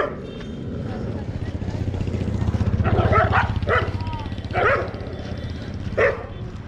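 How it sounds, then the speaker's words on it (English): Street dogs in Pushkar, India, fighting and barking, with several sharp bursts of barks and yelps over a steady low background rumble, while a person talks nearby. "Got a dog fight here. Oh, another one's come to join in."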